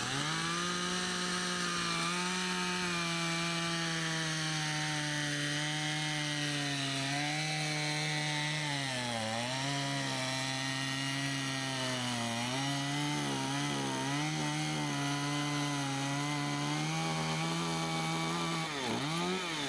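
A bandsaw mill slices a log into live edge roof slabs, a steady loud whine with strong harmonics running continuously and dipping briefly in pitch as the blade loads in the wood.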